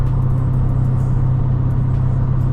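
A Dodge Hellcat speeds through rush hour traffic, its engine a steady, loud low rumble with continuous road and wind roar and no pauses, close to the listener throughout.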